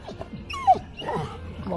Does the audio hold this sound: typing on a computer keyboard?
no